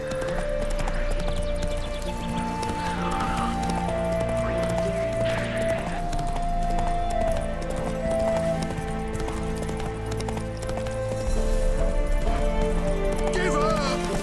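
Geralt's horse Roach gallops through The Witcher 3 in a steady drumming of hooves, close and sustained under voices shouting in a fight and sweeping game music.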